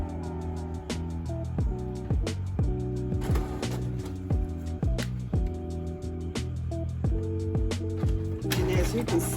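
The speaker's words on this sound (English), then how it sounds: "Load your frosting sheet in the feeder in the back of the printer." An inkjet printer feeds an edible frosting sheet from its rear feeder, producing repeated mechanical whirs, clicks and tonal motor steps in a rhythmic pattern, close and clear, with brief rattling bursts.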